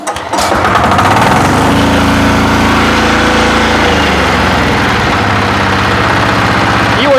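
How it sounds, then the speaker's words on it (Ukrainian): A diesel engine started by hand cranking with no electric starter chugs steadily at idle after a brief start, a loud, close, rhythmic knocking drone that carries on without voices. "так ви маєте змогу послухати, як працює дизель"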